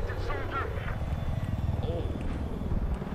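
A helicopter in the Battlefield 4 video game, giving a steady rotor thump and whirring drone throughout, mixed with game noise and someone talking over it.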